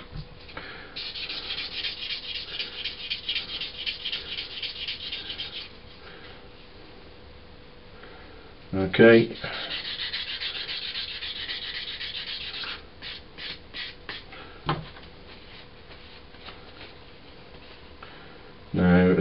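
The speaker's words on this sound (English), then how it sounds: "So another bit of work with the very rough sanding stick" A model gets wet sanded with a very rough sanding stick, giving steady close rasping strokes in long runs with pauses, a few clicks and knocks between, and a brief spoken word.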